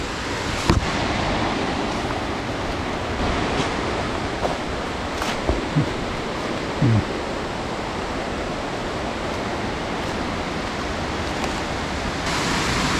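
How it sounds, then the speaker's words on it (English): Rushing water pours continuously in a loud, broad roar, like a nearby waterfall, with a few faint clicks and knocks. "Start getting a bit noisy shortly with the waterfalls, the water flowing."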